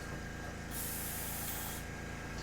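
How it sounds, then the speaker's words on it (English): Airbrush spraying water through to clean it out while painting Warhammer Warcry terrain: a steady, close hiss of air and spray that swells louder for about a second in the middle, then eases back. "We'll spray some water in to get all that out."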